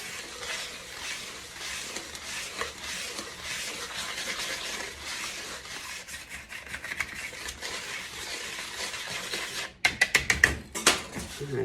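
Quiet scraping and stirring of bath bomb ingredients in a bowl, with a soft continuous rubbing that gives way near the end to a quick run of sharper taps and scrapes.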